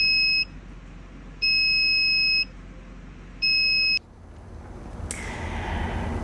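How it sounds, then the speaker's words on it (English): A Heska fluid pump air alarm beeps in three steady, evenly spaced tones, each about a second long, followed by a click and a burst of hiss. "the first alarm I'm going to go over is the air alarm"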